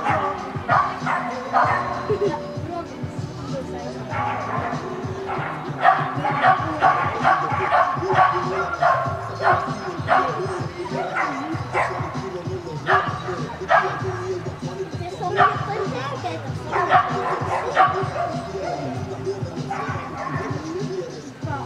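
A sheepdog at an outdoor dog event in Rovaniemi barks repeatedly in short bursts with yips, close by, under people talking.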